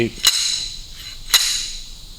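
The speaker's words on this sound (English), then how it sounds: "This is a slide hammer, so instead of a puller, you bolt that onto the hub" Two sharp metallic impacts about a second apart, each with a bright ringing tail, from a slide hammer bolted to the rear wheel hub of a 1972 Alfa Romeo GT Veloce, close by.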